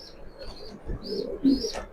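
Pigeons coo softly in a loft or pen, several low murmuring calls overlapping at close range, with faint chirps above and a little handling noise.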